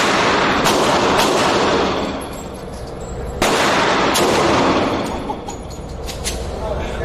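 Two loud, booming shots from a large firearm land about three and a half seconds apart, each followed by a long rolling echo outdoors, with people talking faintly in between.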